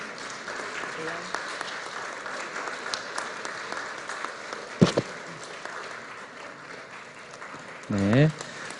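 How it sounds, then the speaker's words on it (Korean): A church audience claps at an awards ceremony, a steady ripple of applause running throughout, with a brief louder bump near the middle and a short spoken voice near the end. "다시 한번 박수 부탁드립니다."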